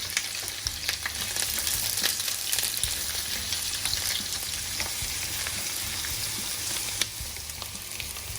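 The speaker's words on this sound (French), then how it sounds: "Quand l'huile est bien chaude, j'y mets mes oignons et je vais les laisser revenir" Onions fry in very hot oil in a wok, giving a dense, even crackling sizzle close up, broken by a few sharp spatters and stirring scrapes.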